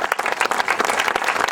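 Audience applause fills a short moment at an outdoor inauguration of new sundials in Aiello, with dense, steady clapping from a crowd throughout and no voices over it.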